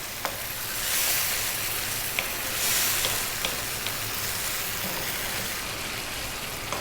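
A sausage and mushroom pasta sauce sizzles steadily in a pan while being stirred, with soft swells in the frying noise and occasional scraping taps of the spoon.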